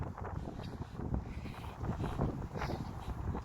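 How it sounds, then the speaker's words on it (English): Strong wind off the water in a New York City park buffets the microphone in a steady low rumble with gusty surges, a constant roar throughout and no voices. "It is very windy"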